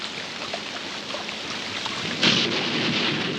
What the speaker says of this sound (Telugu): ఇదేం వానబ్బా ఆగట్లేదు.